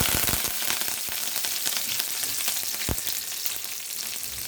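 Curry leaves and dried red chillies crackle and spit in hot oil, a dense continuous sizzle with sharp pops, loud and close throughout.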